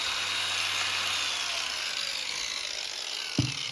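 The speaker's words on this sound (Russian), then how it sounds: "Вот смотрите, топор на болгарке" An axe is sharpened on an angle grinder, producing a steady, bright, hissing grind that holds evenly for several seconds before a brief knock near the end.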